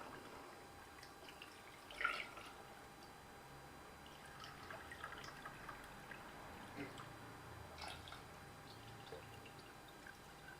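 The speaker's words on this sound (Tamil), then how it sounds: "நான் வந்து ஒரு ரெண்டு கப் தண்ணி ஊற்றிக்கிறேன்" Two cups of water poured over mutton into a pressure cooker for Dindigul mutton biryani, a faint, steady trickle of liquid with no talk, quiet throughout apart from one brief clink near the start.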